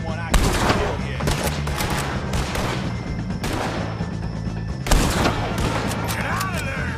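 Dense, loud gunfire from a Red Dead Redemption 2 shootout against O'Driscoll gang members, with continuous rapid shots and heavier bursts near the start and around five seconds, and shouted voices mixed into the battle.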